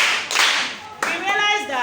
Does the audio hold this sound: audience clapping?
yes